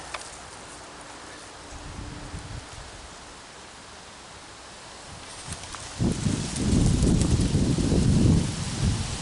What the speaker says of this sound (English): We've got a very light wind.